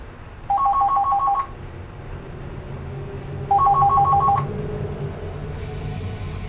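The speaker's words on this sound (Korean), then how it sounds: "공구를 진짜 딱 짚는 순간 전화벨 소리 울리는 거예요." A telephone rings near midnight in an empty amusement park, two separate electronic ring bursts about three seconds apart, each lasting roughly a second, clear over a low, steady background hum.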